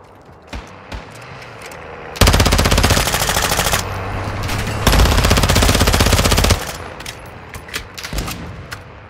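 Automatic gunfire in the video game Warzone DMZ rattles out in two long, loud sustained bursts, with scattered single shots and quieter moments before and after.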